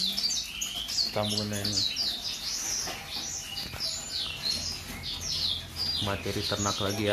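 A wild-caught white-rumped shama (murai batu) from the Aceh forest sings a run of bright, rapid chirps and whistled phrases close by, while people chat over and between the song.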